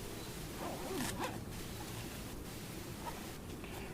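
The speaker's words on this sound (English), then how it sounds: "when you're doing your veil up, to cross the legs of the zips" A zipper on a beekeeping veil drawn quickly a few times, a close, brief rasp over steady outdoor noise, then quieter rustling.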